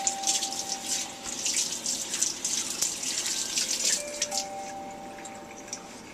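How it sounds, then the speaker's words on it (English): Running tap water pours steadily while hands are washed, a close, continuous splashing hiss that swells and eases slightly, with faint tones in the background and no talk. "and you wash your hands."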